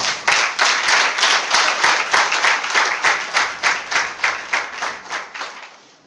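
A church congregation claps after a scripture reading, with steady, dense applause from many hands building briefly and then thinning into a pulsing rhythm before fading out at the end.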